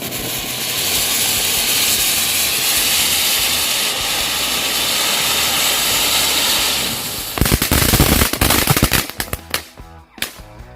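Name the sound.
conic fountain 3 in 1 firework burning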